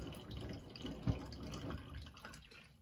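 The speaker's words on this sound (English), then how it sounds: "I will just add some softener followed by a pinch of water" Water is poured into a washing machine's detergent drawer to rinse fabric softener through, a quiet, steady trickling wash with a small splash partway, no voices.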